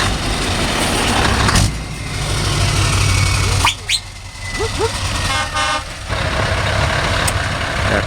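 A Scania Super truck passes in a truck convoy in Lopik, Holland, with a loud, steady engine rumble broken by several short horn toots and a brief drop as it goes by.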